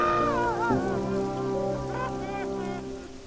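Heavy rain pours from a crying cartoon cloud as a steady hiss beneath bright, tuneful cartoon music that runs through the whole short stretch.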